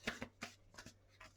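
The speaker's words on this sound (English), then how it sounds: "3 shuffles." Tarot cards are shuffled in quick, faint riffles, about four soft bursts close by with no talking.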